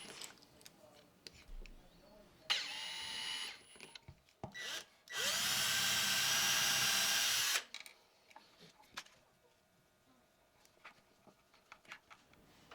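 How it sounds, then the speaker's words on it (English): An electric drill whirs in two bursts while drilling out a screw hole on a sofa table, a short one and then a longer steady one of several seconds, with clicks and handling noise around it. "I'm going to drill out the hole"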